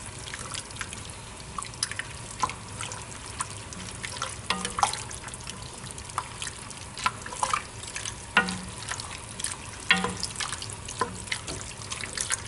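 Beef stroganoff meat and sauce are stirred in a pan, producing soft wet squelches and scattered spoon clinks over a low simmering bubble, close and fairly quiet.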